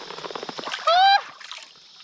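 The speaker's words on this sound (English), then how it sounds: "I want to like splash my face with it." Hands splash stream water onto a face on a bush hiking track, with soft irregular splatters close by, while a person talks and gives a brief sharp exclamation mid-way.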